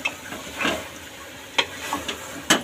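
Ghugni, a pea curry, cooks in a pan under a soft sizzle while a spoon stirs it, making scattered clicks and scrapes with a few sharper taps against the pan.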